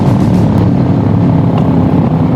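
A 2020 Honda Shadow motorcycle engine running while riding, a loud, steady low rumble heard close without interruption, ridden in snowy conditions.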